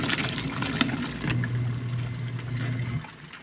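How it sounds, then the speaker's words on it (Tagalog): A toy mini washing machine drains its water in a continuous trickling, pouring gush, close up and fairly quiet, with a faint low hum underneath and no talking. "At dito i-drain yung tubig."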